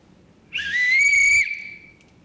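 A single whistle blown once, a shrill sustained tone lasting about a second before tailing off, loud and close against faint background noise.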